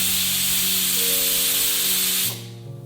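A pressure cooker cooking curry lets out a loud, steady jet of hissing steam that cuts off sharply near the end, leaving a low hum with faint tonal whistling underneath.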